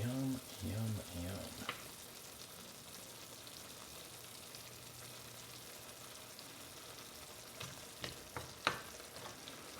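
Oyakodon simmering in a frying pan is stirred, giving a steady soft sizzle throughout, with a brief voice at the start and a few sharp clinks near the end.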